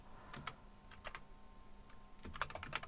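Keys clatter on a computer keyboard in short, quiet bursts of quick clicks with brief pauses between them as a title is typed into OneNote. There is no talking.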